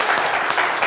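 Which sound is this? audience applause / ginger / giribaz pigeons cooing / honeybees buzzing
audience applause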